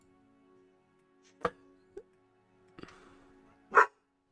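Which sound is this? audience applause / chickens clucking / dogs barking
dogs barking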